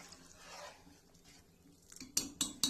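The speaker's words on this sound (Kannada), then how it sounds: "ಸೊ ಆ ಬೇಳೆನ ಇದಕ್ಕೆ ಹಾಕ್ತಾ ಇದ್ದೀನಿ." Cooked lentils tip into a pot for Mangalore-style cucumber sambar, a soft muffled slide and squish followed by three sharp metallic clanks of a utensil tapping the pot rim, close and quiet.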